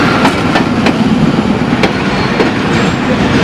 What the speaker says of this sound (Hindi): फिर इसके बाद 125 अबलासानी एक्सप्रेस आ गई,